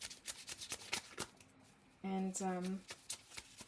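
Tarot cards shuffled off camera, a quick run of dry riffling clicks at a steady rhythm, followed by a brief spoken word.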